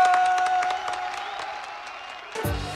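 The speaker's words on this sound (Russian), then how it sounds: "Начинайте аплодировать. Браво!" A theatre audience applauds, a steady patter of clapping hands beneath a sustained musical tone that fades before a brief low thump at the end.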